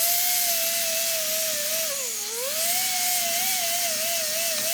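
A power tool grinds down the end of a metal bolt for a workbench leveling foot, a steady high whine that dips briefly in pitch under load before recovering, close and loud with no talk.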